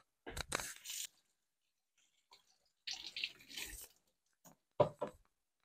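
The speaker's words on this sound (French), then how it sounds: "Là, vous le passez sous l'eau." Leek rinsed under a running kitchen tap while preparing bolognese pasta: short close splashes and gushes of water in three separate bursts with quiet gaps between.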